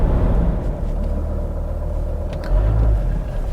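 Steady low rumble of a Mercedes ML engine and road noise from inside the car while driving to park, continuous and fairly loud with a slight swell near the end.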